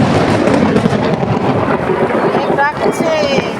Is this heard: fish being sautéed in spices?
no